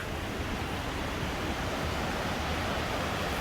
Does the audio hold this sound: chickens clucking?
no